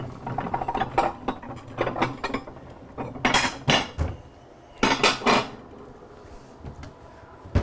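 A metal spider scoops half-cooked fish out of broth in a pot, giving close, irregular clinks and scrapes of metal against cookware, with a few louder bursts of clattering.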